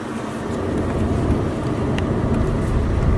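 Steady road rumble and engine drone fill the cabin of a moving car, a continuous loud low noise with no talking.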